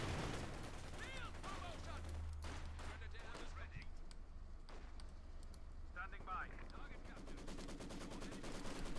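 Maxim machine gun fire rattles in bursts amid other gunfire and battle noise in the real-time strategy game Company of Heroes 2, dense and continuous, with a commentator talking over it.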